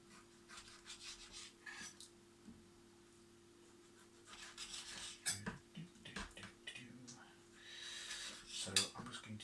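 Meat being cut into chunks with a blunt knife while cooking jollof rice: scattered scraping and clinking of the blade against a board and dishes, with soft rubbing strokes and a low steady hum underneath.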